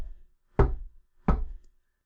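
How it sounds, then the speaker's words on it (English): Two firm, polite knocks on a door, evenly spaced about two-thirds of a second apart, close and dull with no voices. "The knocking continued, 3 polite raps every 5 seconds, made with metronomic precision."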